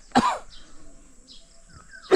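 A single sharp cough rings out close by, followed by a quiet pause and then a second cough at the end.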